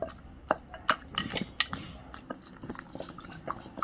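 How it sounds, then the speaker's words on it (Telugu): Tomatoes being pounded with a pestle for a roti pachadi chutney: irregular, fairly quiet thuds and clinks of stone or metal, some sharper strikes among softer mashing, with no talk. "ఇలా నలిగాక మనము వేసుకొని దంచుకోవాలి టమాటా"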